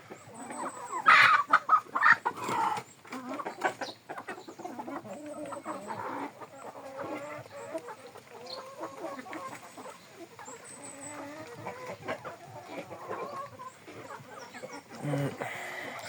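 Several chickens cluck and squawk nearby, a burst of louder calls early on, then softer scattered clucking continues throughout.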